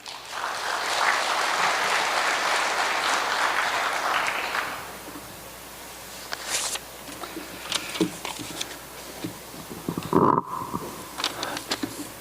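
At a forum lecture, an audience claps to welcome Professor Kang Young-wook to the podium, a steady burst of applause lasting a few seconds before fading out into a quiet room with scattered small bumps and shuffles.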